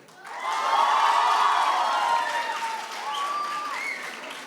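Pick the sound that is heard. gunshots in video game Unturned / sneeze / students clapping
students clapping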